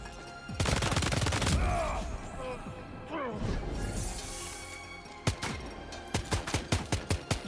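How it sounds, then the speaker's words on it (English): Assault rifle fire in Death Stranding 2 rings out at a training facility: a long full-auto burst, a second stretch of shots with clattering impacts, then a series of single semi-auto shots near the end. "All right, let's try the assault rifle."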